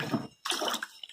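Water rushes into a gold panning bucket, a strong, close splashing flow that starts abruptly after a short burst of noise and carries on steadily without any talk.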